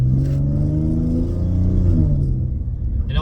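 An Infiniti G37 fitted with test pipes revs up close, its raspy exhaust rising and falling with a steady throaty rumble and no talking.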